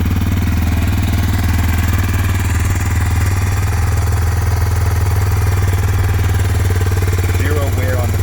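A 2021 Kawasaki KLX230R fuel-injected motorcycle engine idling after a cold start, a loud, steady, rapid putter with mechanical clatter close up, running evenly throughout.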